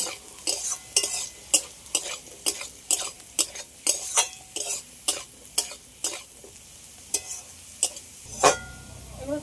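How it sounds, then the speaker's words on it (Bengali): A spatula stir-fries the mixed chaat muri ingredients with curry leaves in a pan, making about fifteen evenly spaced scraping strokes against the metal over a low, faint sizzle. "সব মিশিয়ে ভেজে নেব।"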